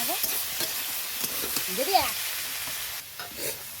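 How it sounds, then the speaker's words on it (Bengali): Boiled cauliflower is stirred in a hot pan of oil and tempering spices, a spatula scraping and clinking in short strokes over a soft sizzle, with a brief word spoken. "এবার আমি সিদ্ধ করা ফুলকপিগুলো দিয়ে দিলাম, এরকম নেড়ে চেড়ে নিয়ে নেবো।"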